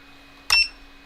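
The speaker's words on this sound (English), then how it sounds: "everything beeping at us" A single short electronic beep, clear and close, sounds from a long-range Warthog FPV drone build on the bench after its flight controller settings are saved, then quiet hum.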